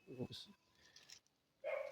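A dog barks outdoors on a noisy street, giving a few short, fairly faint barks that come and go over background noise, with no clear voices.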